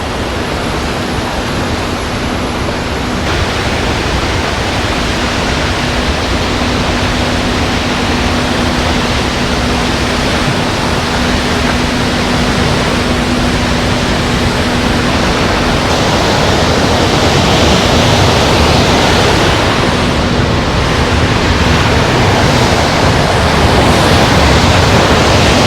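Water pours down into a forest canal tunnel along a hidden trail, a loud, dense, unbroken roar of rushing flow that swells slightly later on, with a faint steady hum running underneath and no talking.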